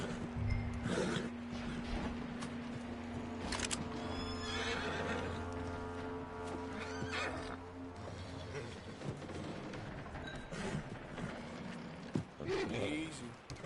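A horse in Red Dead Redemption 2 gives a neigh among clip-clopping hooves and creaking tack, fairly close, with background game ambience and occasional speech.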